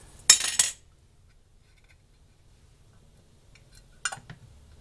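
Heavy-duty Lehman canning lids with blue glue clink onto glass jars of beef and gravy, two quick metallic clinks near the start and another pair later, separated by quiet.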